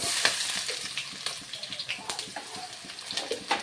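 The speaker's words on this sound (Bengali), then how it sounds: "তারপর দিয়ে দেবো পেঁয়াজ কুচি" Chopped onions and whole cardamom, cloves and cinnamon frying in hot mustard oil with a little ghee, a steady close sizzle with soft crackles and occasional stirring taps throughout.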